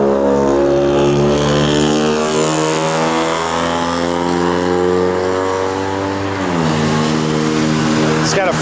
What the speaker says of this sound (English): It's got a Flowmaster dual exhaust system in it.